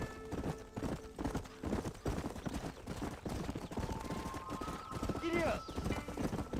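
A horse gallops in Red Dead Redemption, its hooves a rapid clip-clop rhythm close by, a brief neigh near the end, with a voice speaking over it.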